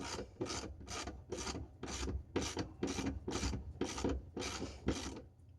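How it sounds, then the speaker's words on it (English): A suspension bushing is pressed into the eye of a Progressive 412 shock during a repair. About ten regular rasping strokes repeat close up at a steady rhythm, with no voices. "the bushing gets pushed into the eye"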